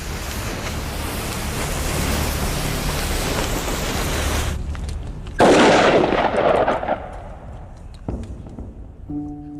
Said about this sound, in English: we might well get a big bang if this pyrotechnic mixture wasn't compacted enough